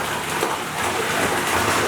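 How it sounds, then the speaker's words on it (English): Water pours straight down from a fast ceiling spout into a bathtub in a midcentury modern condo, a loud, steady gushing roar close by with no voices. "the tub has to fill up really fast, or else it will get cold before it's finished filling"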